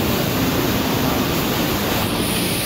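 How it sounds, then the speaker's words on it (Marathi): A monsoon waterfall in Konkan and the stream running beneath a bridge make a loud, dense and unbroken rush of water heard up close, with no voices. "अशा प्रकारे धबधबा आहे बघा, चांगला मस्त वॉटरफॉल."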